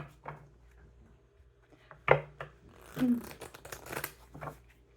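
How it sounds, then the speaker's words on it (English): A deck of tarot cards is shuffled close by, giving a quick riffling burst followed by softer papery rustles and taps, with faint speech around. "I'll do one more shuffle."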